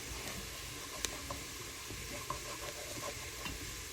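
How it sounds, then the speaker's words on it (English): Curry sauce being whisked in a non-stick pan, a soft continuous bubbling sizzle with a few light clicks of the whisk against the pan, quiet and close. "I'm using a whisk."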